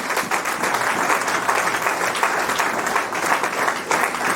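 A church congregation applauds in a steady, dense wash of clapping that continues throughout, loud and unbroken, with no clear voices above it.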